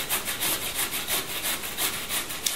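A peeled carrot is grated on a grater in brisk, even back-and-forth strokes, a close rhythmic rasping scrape repeating about five times a second.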